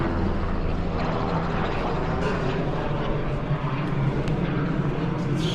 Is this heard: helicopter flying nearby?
yes